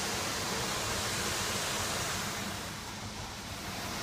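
An automatic car wash spraying rinse water over a car, heard from inside as a loud, constant broadband rush and hiss that eases slightly near the end, with no voices.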